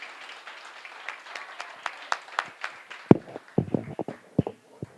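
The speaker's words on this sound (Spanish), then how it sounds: "Un aplauso grande para él." Scattered applause from a lecture audience after a conference talk, starting as a soft patter and thinning into a handful of separate, fairly close claps.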